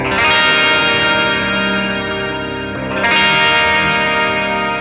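Bright Jackson electric guitar chords on the bridge pickup's active clean tone ring out clean and twangy with a shimmering chorus-like effect, one long strum sustaining, then a second strum near the end.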